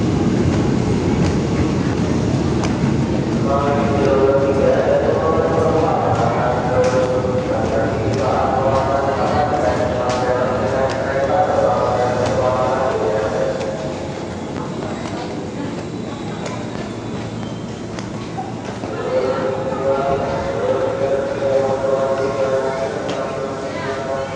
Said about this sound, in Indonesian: Di jalur 3 masuk KRL dengan tujuan akhir stasiun Cikarang